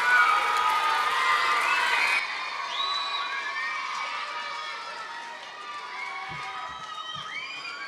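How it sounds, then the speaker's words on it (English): A crowd of children at a kids camp cheers, shouts and whoops for Mr. Tim, loud and dense at first, then settling into scattered calls and excited voices. "Give him a round of applause"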